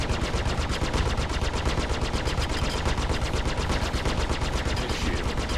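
Rapid, continuous automatic gunfire from a spacecraft weapon in the video game Star Citizen, a loud, dense stream of evenly spaced shots that never lets up.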